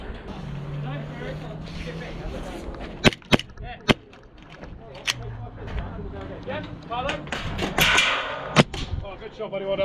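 Airsoft gunfire at Battlestation Snetterton, a woodland skirmish site, with a Vorsk Vengeance 5.1 Hi Capa pistol: a few sharp cracks spread through the clip amid outdoor rustle and background chatter.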